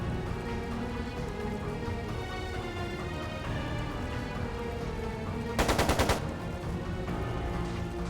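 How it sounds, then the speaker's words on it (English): A short burst of machine gun fire cuts through a steady music and game soundscape in Trails of Cold Steel II, rapid evenly spaced shots lasting about half a second, loud and close. "It sounded like a machine gun."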